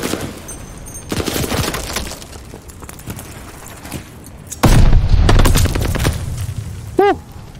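Gunfire erupts at a hard point in a multiplayer shooter game, loud rapid bursts and booms near the listener that come in waves, with brief quieter gaps and a voice talking briefly in between.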